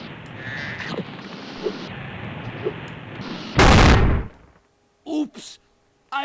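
A statue in the video game Spyro: Year of the Dragon blows apart in one loud, dense burst lasting under a second. It breaks through a steady background din and is followed by brief voices.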